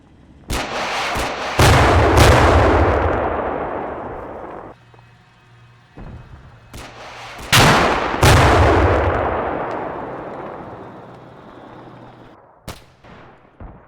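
Artillery fire in the Combat Mission Cold War video game, with a few heavy booming blasts spread out and ringing over a quiet background. No one talks.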